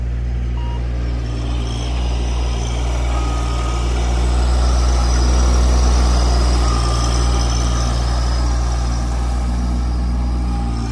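A tractor engine runs close by with a steady, heavy low drone that swells slightly midway while it spreads ground cover over an RV parking spot. No one speaks.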